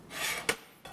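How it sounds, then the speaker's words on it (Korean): Prepared garlic tips from a bowl into a pot of rice and water for garlic rice, giving a short broadband rasp and rub, then a sharp scrape near the middle and a lighter rustle at the end. "아까 준비해 놓은 마늘을 여기다 넣을 거예요"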